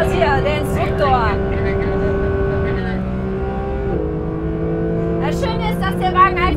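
Porsche 992 GT3 on a race track, its engine revving steadily with rising and shifting tones, loud and continuous, while someone talks over it.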